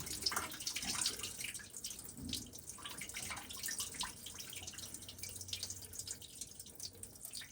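Water drains out of a boat's plumbing during winterizing, a faint, close trickling and dripping splatter that runs steadily throughout with small irregular drops, no talking.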